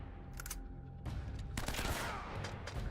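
Gunfire in the video game Uncharted, a few sharp shots followed by a louder rapid burst of several shots in quick succession, fairly close, with background game noise.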